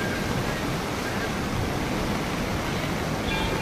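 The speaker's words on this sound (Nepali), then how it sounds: "हनुमन्ते खोला आज अविरल वर्षाको कारण बाढीले अस्तव्यस्त छ" Floodwater of the Hanumante river in heavy, continuous rain rushes in a loud, steady broadband roar, like surging torrent near a bridge, with no pause across the stretch.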